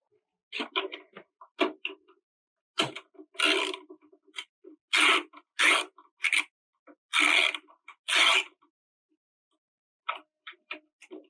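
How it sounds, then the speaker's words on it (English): Hex wrench breaking loose 5mm Allen bolts on a DeWalt DW735 planer, giving a string of close, sharp ticks and metallic clicks with short pauses between bursts. "Now I like to just break those loose and then remove these the rest of the way by hand."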